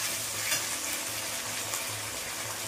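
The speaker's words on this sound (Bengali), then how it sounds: "আমরা একটু নাড়ানোর কাজ করে নিই" Mutton curry sizzles in a pan as a spatula stirs it, a continuous close hiss of frying broken by soft, rhythmic scraping strokes.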